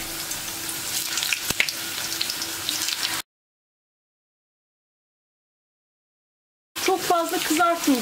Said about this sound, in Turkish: Isınan yağın içerisine patatesleri atıyorum.